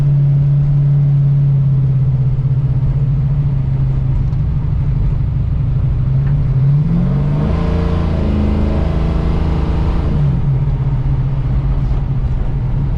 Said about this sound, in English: If you ever need to turn the corner, you just spin the tires and get around nice and quick.